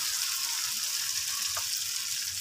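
Sambal with salted fish, petai and potatoes sizzles steadily in a pan while being stirred, a close, constant frying hiss with a faint scrape of the spoon.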